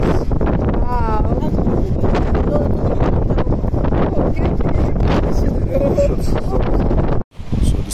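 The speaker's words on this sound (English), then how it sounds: "Super windy. Testing the wind house." Strong wind roars steadily across the microphone in Tarifa, loud and continuous, with a voice talking underneath and a brief dropout near the end.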